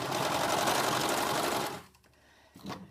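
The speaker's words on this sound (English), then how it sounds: "Just a few stitches, and then I'm going to go ahead and serge off the end" A serger sewing machine running steadily as it serges off the end of a flannel washcloth, a loud continuous whir that stops abruptly, followed by a brief quiet and a short clack.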